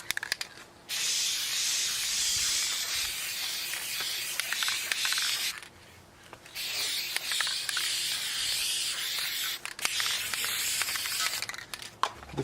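Rust-Oleum spray paint hissing from a can onto an aged air conditioner, in two long, steady, loud bursts separated by a short pause, close up and with no voices.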